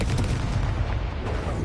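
A dense, roaring burst from the Incendio fire spell in Hogwarts Legacy, a loud sustained whoosh of flame with no break and no voices.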